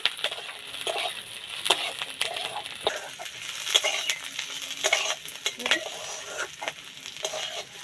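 Chillies, nuts and spices stirred in a cooking pan for egg korma, with a steady soft sizzle under repeated scraping and clinking of a spoon against the metal, close and fairly loud, no talking.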